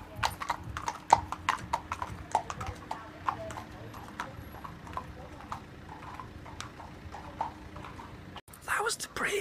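Hooves of a ridden horse clip-clop steadily on a sunny road, close and distinct over the whole stretch, with a low engine-like hum beneath and a brief louder rustle near the end.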